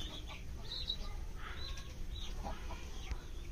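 Chickens and young chicks give quiet, scattered clucks and high peeps over a soft outdoor background, with occasional wing movement.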